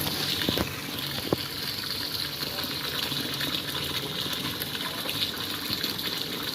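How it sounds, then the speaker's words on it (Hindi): Tap water gushes steadily into a livestock feed mix in hot-weather preparation, a continuous broadband pouring rush that stays fairly loud throughout, with a couple of brief knocks near the start. "अब इसमें पानी ऐड होगा।"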